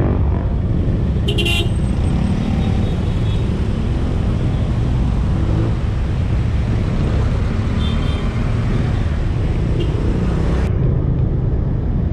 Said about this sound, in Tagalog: Mega traffic na to.